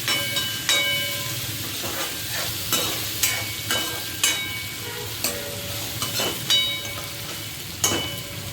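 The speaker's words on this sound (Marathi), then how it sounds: "तो हा उभा चिरलेला कांदा ह्याच्यात ॲड करायचा आहे" Sliced onion hits hot oil in a tempering for a green brinjal curry, sizzling steadily while a spoon stirs and scrapes the pan in regular clicks every second or so, close and alone with no voices.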